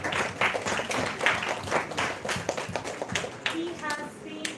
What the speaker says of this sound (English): A round of applause for Dr. Pawan Soni.